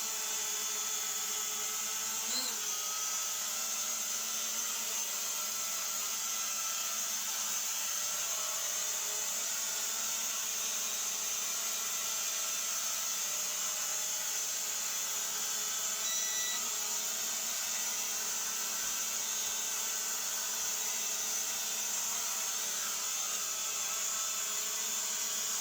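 A small toy drone hovers and flies nearby, giving off a steady, even high-pitched buzzing whine that holds unchanged for nearly half a minute, with no voices.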